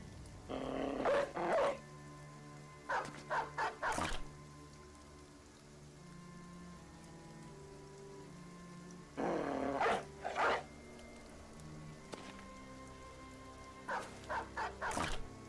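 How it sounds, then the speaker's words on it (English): War dogs in the tactical game Battle Brothers bark and growl in a few loud, clustered bursts with pauses between, over a rain-like wash and low background music, with no talk. "we'll release all the dogs first"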